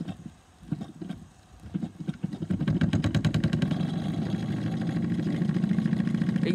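A Wilesco D16 toy steam engine with a small slide valve runs steadily, a rapid even chuffing tick building from a few soft beats into a continuous close-up rhythm as it settles to a low tick-over.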